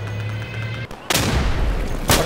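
Gunfire in the World War II shooter game Day of Infamy: after a low hum, loud sharp shots burst out close, with a sustained crackling volley and another blast near the end.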